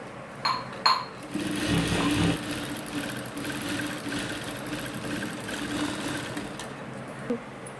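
A sewing machine stitches a churidar with a steady mechanical whir, preceded by a couple of sharp clicks and continuing at moderate volume with small knocks near the end.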